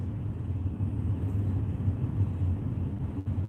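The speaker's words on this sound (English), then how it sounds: "the 2 trucks next to me are just kind of noisy" Two trucks idle in a dusty parking lot, giving a steady, low engine rumble that stays close and constant throughout, with no talking.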